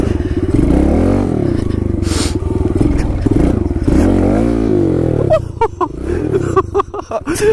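A Kawasaki KLX110L pit bike revs hard while riding through snow, its small engine buzzing loud and close with rising and falling pitch, then choppy bursts and clattering as the throttle is blipped.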